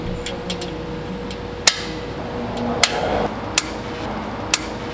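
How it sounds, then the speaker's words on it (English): A few sharp, isolated metallic clicks and taps as a Cummins diesel injector pops into its seat, at irregular intervals over a low background hum, close and distinct. "We just want to get it seated in there, and you'll hear it a nice little pop in."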